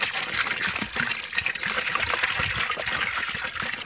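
Water is poured into a trough for cattle on a farm, a continuous splashing, gurgling flow heard up close and fairly loud for several seconds, with no voices over it.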